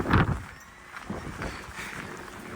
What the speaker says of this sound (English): I know, it's very windy, isn't it?